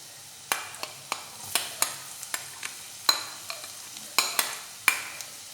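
Finely chopped garlic and spring onion fry in a pan, with a soft continuous sizzle broken by a dozen sharp spatula taps and scrapes in an uneven rhythm.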